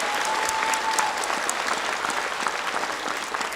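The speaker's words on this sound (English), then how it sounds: "How about a round of applause for that?" An audience at a high school graduation ceremony in Thousand Oaks claps in a sustained, dense round of applause that holds at an even level throughout.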